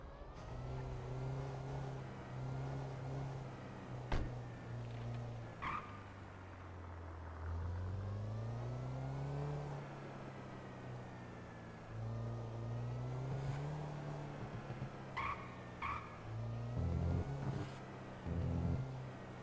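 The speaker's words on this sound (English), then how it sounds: "So there is kind of some engine sounds, but I think that's just like the electric motors we're in, because it is an electric vehicle." In a role-play driving video game, an electric vehicle's motor gives a low, whirring hum that swoops up and down in pitch as the car speeds and slows, steady and fairly faint throughout.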